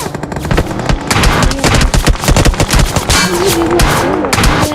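Loud rapid bursts of automatic gunfire in the video game BGMI crackle almost nonstop, layered with heavy shots and a brief tonal whine near the end.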